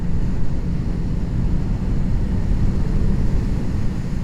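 A Moto Morini 6 1/2 motorcycle pulling hard in fourth gear, a steady loud engine drone blended with heavy rushing wind buffeting the microphone, continuous throughout with no talk.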